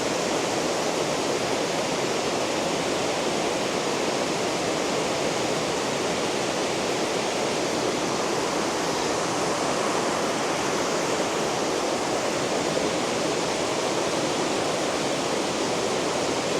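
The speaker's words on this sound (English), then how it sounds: "The waterfall's beautiful." Waterfall in the Catlins pouring with a dense, unbroken rushing roar that holds steady and loud throughout, with no other sounds standing out.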